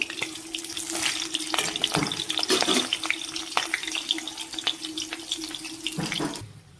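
Banana flower fritters in rice-flour batter frying in hot oil, a dense, steady bubbling sizzle with scattered sharp crackles and a few utensil taps, fading at the end.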